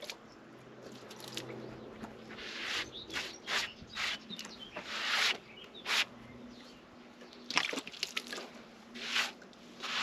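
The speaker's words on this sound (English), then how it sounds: "I'll just give this one a wee splash of water." Water splashed onto a hard walnut log on a homemade bandsaw mill, heard as a run of close wet squishing and dripping bursts over several seconds with no talking.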